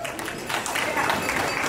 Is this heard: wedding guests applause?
yes